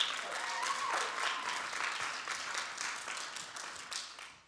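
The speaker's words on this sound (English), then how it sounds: "let's give another round of applause to Angie Oriana Jenkins, too" A theatre audience applauds steadily for a performer in a dense, sustained wash of many clapping hands that thins and fades away at the end.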